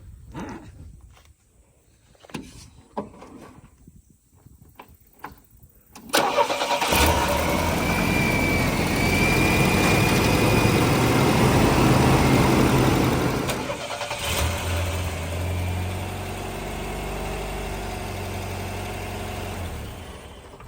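Faint clicks and rustling, then the engine of a 1991 GMC Sonoma pickup cranks and catches at about six seconds after an alternator replacement, and settles into a steady, rumbling idle that holds to the end.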